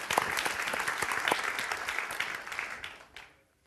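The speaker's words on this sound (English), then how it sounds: "Yeah, I think that applause is way overdue." Audience applause at a talk on the Night Stalker case, a dense burst of clapping that holds steady and then tapers off to near silence at the end.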